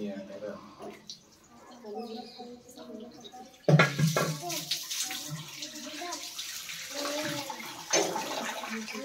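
Water pours and splashes during a Varalakshmi puja at home, a brief quiet trickle followed by a louder, fuller gush, while Tamil voices speak and chant over it.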